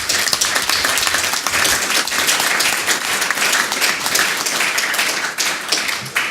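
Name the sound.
audience applause at boxing press conference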